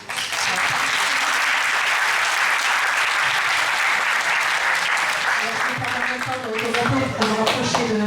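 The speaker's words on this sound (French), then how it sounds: "Ça s'applaudit. Ça s'applaudit." Audience at a French agriculture and quality-of-life conference applauding, a dense, sustained clapping from a full room lasting several seconds, fading slightly toward the end with a few louder individual claps.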